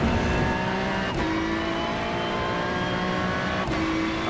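A Ferrari 296 GT3 race car in the iRacing game accelerates in a loud, continuous engine roar that climbs steadily through the gear, with two brief shift dips, close and alone without talk.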